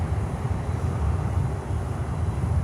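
An Atlas Air cargo plane taxis at Miami airport, its steady low engine rumble droning continuously from a distance with no pauses or talk.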